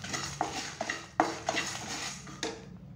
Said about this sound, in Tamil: இது கூட போட்டு நல்லா வறுத்துக்கலாம் எல்லாத்தையும்